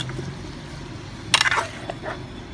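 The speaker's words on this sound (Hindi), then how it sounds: "अब 1 कप हम ये चाय वाला रेगुलर जो कप है ये मैं पानी का इसके अंदर ऐड कर दूंगी।" A cup of water goes into a potato and cauliflower curry in a home kitchen: a brief close splash with a light clink, then a small trickle, set against a quiet background hum.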